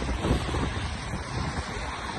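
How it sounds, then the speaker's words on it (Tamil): Strong wind roars through a snowstorm, a dense, steady rush of gusts that never lets up, close and loud with no talk. "பயங்கர விண்டுங்க, பயங்கர விண்டு."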